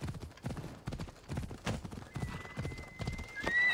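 Horse hooves clip-clop in a quick steady rhythm in Assassin's Creed Odyssey, the video game, with a neigh near the end, while someone talks over them.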